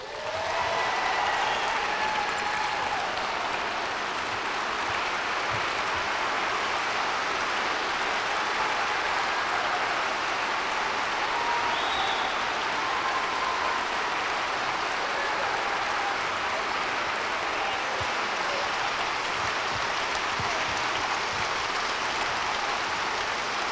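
Sustained applause from a large lecture-hall audience welcoming Mary Steenburgen, James Patterson and President Bill Clinton to the stage, loud and steady throughout with no talk over it.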